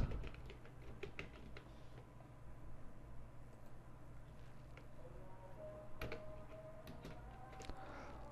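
Someone types a website URL on a computer keyboard, a quiet, close run of irregular key clicks and taps with brief pauses between bursts.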